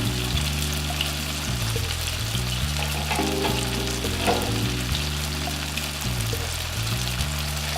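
Pork dumplings frying in an uncovered pan as the last of the water boils away, a steady loud close sizzle and bubbling that runs unbroken throughout with no voices.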